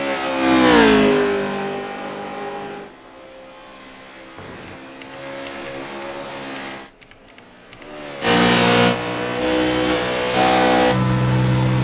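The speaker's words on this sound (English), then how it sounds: "And we're riding on board with the 94 right now, as you can see. Going full throttle into this chicane." The No. 94 race car's engine screams at full throttle into a chicane at Watkins Glen in a sim racing series, a loud, buzzing high-revving drone that drops off midway, stutters briefly, then surges back hard.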